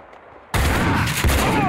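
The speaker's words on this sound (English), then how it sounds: "they shot at me all at the same time" Enemy gunfire in Max Payne 2 erupts suddenly after a quiet moment into a dense, loud, continuous barrage of overlapping shots, with a sharper crack near the end.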